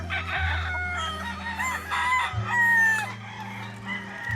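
Roosters on a chicken farm full of grey gamefowl crow repeatedly, several overlapping calls near and loud, with clucking and farmyard bustle between crows.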